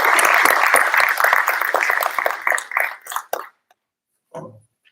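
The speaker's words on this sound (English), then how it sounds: "I want you to give them a big round of applause" An audience applauds at a Lancaster FFA chapter awards ceremony, a dense burst of clapping that thins into scattered claps and stops after about three seconds, followed by a brief voice.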